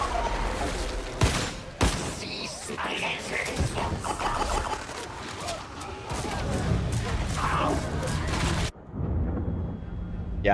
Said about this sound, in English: the pistol audio is really good